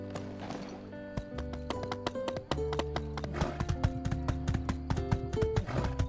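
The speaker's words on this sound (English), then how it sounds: "I love the sound of the horse." Horse hooves clip-clop at a steady trotting rhythm in the video game My Time at Sandrock, the close taps repeating over a continuous music track with no voices.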